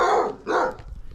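A neighbouring dog gives two quick barks at moderate distance, sharp and close together, with a faint trailing sound after.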